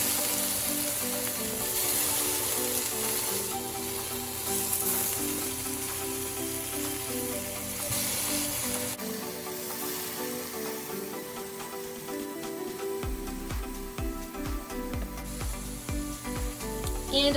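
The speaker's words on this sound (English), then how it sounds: "I'm just gonna go ahead and put the pieces of tofu onto the pan." Tofu pieces dropping into a hot pan on a stovetop and sizzling in a steady crackling hiss, with a few clicks and shifts as the pieces settle, moderately close and with no talking.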